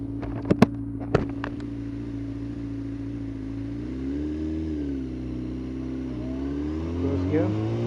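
A Yamaha YZF R6 motorcycle engine at low revs, its rev stuttering fault fixed after a filter cleaning, gives a steady, even droning hum. A few sharp clicks come early, and the pitch rises and falls gently midway.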